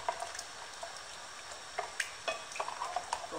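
Shrimp mixture with three beaten eggs being stirred in a pan over medium heat, a faint soft sizzle under scattered light scrapes and clicks of the utensil.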